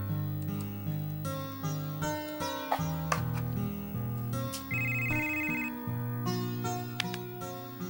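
A melodic phone ringtone plays in a repeating pattern of bright electronic tones, loud and close, with no voices over it.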